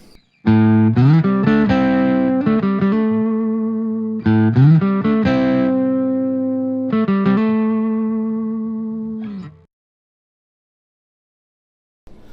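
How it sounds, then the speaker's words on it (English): An electric guitar plays a chordal phrase through a PRS Sonzera 50 amp head with spring reverb fully up, notes blooming into a big, washy reverb that rings on after each strum before fading to silence. "It can go from a very subtle sound to a really big reverb sound"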